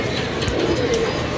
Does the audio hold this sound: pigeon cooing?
yes